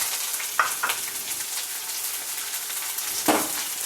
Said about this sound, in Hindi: थोड़ा गोल्डन ब्राउन होने तक जो है प्याज को अच्छे से भुनाएंगे